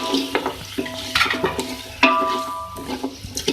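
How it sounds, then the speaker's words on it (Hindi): Beef pieces being stirred and fried in oil in a pot for biryani give close, irregular scraping and clattering with a light sizzle underneath. "मिक्स कर लो इसी तरीके से, फ्राई करें।"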